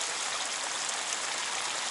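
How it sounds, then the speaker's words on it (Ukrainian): Hot thermal spring fountain in Wiesbaden, its water pouring in a steady, even hiss and splash that stays close and constant throughout. "Ось фонтан чи джерело гаряче і сит водного."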